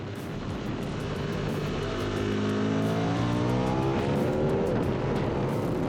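A KTM 990 RC R sport motorcycle engine accelerates hard, its high revs climbing steadily in pitch, loud and close throughout with no speech.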